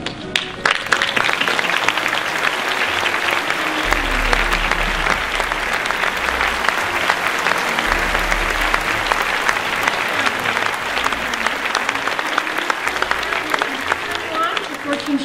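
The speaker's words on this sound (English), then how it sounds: "please stand up so I can give you a big round of applause" Audience at the New York Digital Short Film Festival opening ceremony gives a long, sustained round of applause, dense clapping throughout with a low rumble of voices and movement beneath it.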